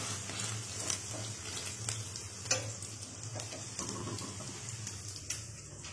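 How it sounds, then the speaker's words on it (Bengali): Bread toast fries in a pan with a steady, close sizzle, broken by occasional scrapes and ticks as it is turned and stirred. "এই তো আমি ব্রেড টোস্টটা বানাচ্ছি।"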